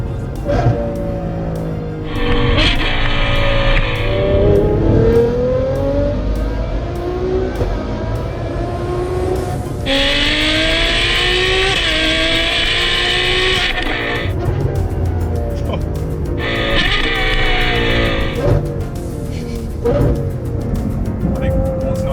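A Ferrari 812 fitted with a Novitec exhaust revs hard through the gears, its V12 rising and falling in long sweeping pulls with pops on the overrun, loud and close, while people talk over it.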